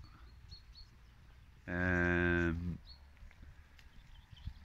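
A single loud, drawn-out moo from a Galloway or shorthorn cow in a field, lasting about a second over quiet outdoor background.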